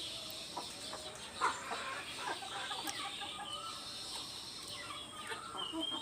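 Chickens clucking on a small local poultry farm in Assam, scattered clucks and calls at a moderate distance over faint background noise, no talking.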